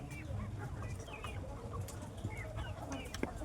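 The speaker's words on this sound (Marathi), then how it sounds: "या बघा आमच्या पोल्ट्रीमधले कोंबड्या" Poultry-farm chickens in a village cluck and chatter softly in a group at evening, with scattered short calls over a low, steady background hum.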